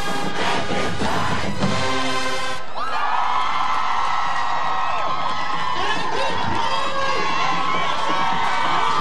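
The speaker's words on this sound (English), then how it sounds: "Aggie fans are cheering because their boys in blue have gone on top 7-0" Football fans cheer loudly in a stadium at a college conference game, a sustained roar of crowd shouts and whoops that swells after an opening burst of noise, with no break.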